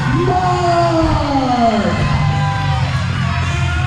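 A large arena crowd roars and cheers loudly and continuously, with whoops and yells rising above a dense wall of noise.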